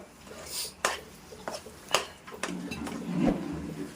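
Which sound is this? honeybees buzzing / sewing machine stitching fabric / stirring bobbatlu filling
stirring bobbatlu filling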